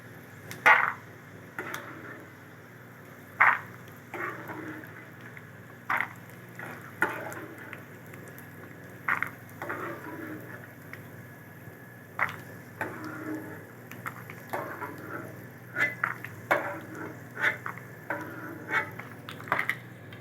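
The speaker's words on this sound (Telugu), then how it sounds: "పల్లీలు ఈ విధంగా ఫ్రై అయిన తర్వాత ప్లేట్లోకి తీసుకోండి" Peanuts fry in oil in a pan for lemon rice, making a soft continuous sizzle broken by repeated sharp clicks and scrapes as they are stirred. No one speaks.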